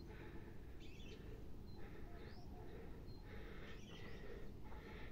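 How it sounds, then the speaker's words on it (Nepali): Birds chirp in green countryside along an uphill route, a few faint, brief calls rising over a steady broadband rumble that persists throughout. "यो चराचुरुङ्गीको चिरबिर आवाज"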